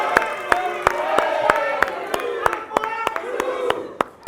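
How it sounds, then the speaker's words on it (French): Studio audience of a French TV show claps steadily with some cheering and whoops, sharp regular claps standing out over a sustained crowd murmur and voices. "On va les applaudir, s'il vous plaît."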